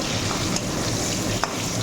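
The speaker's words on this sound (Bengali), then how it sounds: "ভাজা ভাজা করে নিচ্ছি।" Washed potatoes fry in oil tempered with cumin, bay leaf and dried chillies, giving a dense, continuous sizzle with a couple of brief spatula taps.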